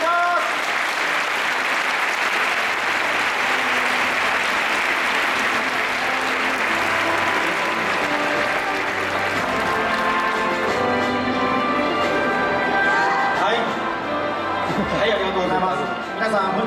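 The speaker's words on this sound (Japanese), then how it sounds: "皆さん、大きな拍手をお願いいたします。" A large crowd at the Kawasaki Frontale 2015 new-lineup press event in a university hall applauds as players walk on stage, with steady, dense clapping sustained throughout and some crowd chatter mixed in.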